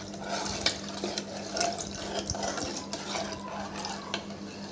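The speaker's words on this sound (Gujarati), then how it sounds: "આમાં જે જાડી છે એટલે આપણે પાણી નાખીશું." Water is poured into cooked, thickened dal and stirred, giving quiet sloshing and spoon-on-pot scrapes with a few clinks, close up and without talk.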